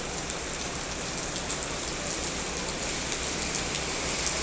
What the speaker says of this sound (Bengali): বৃষ্টি আসলে আমাদের জন্য সত্যিই সুখবর নয়